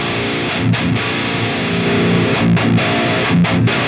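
Electric guitar played through a Fortin Killer Kali preamp with its saturation switch engaged, giving thick, heavily distorted chugging riffs with short palm-muted stops and gaps, loud and alone.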